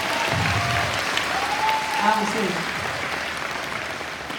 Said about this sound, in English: All right, now you can clap.